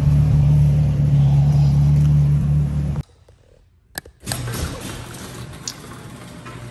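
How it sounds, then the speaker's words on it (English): Porsche Carrera GT engine rumbling loud and close as the car is driven into a garage, cutting off abruptly midway, followed by a few sharp clatters and a quieter, steadier hum. "Time to tuck the Carrera GT away."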